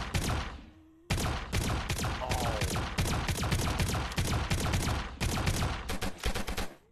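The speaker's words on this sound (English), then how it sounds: "Yo, actual ray gun." A ray gun in a VRChat zombie survival game fires in rapid, loud bursts, with a brief pause near the start and another gap late on before the shots resume.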